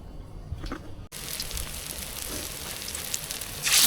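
Pumpkin and small shrimp pakoras frying in hot oil, a steady close sizzle that jumps louder as a fresh batch goes in, after a brief quieter bubbling.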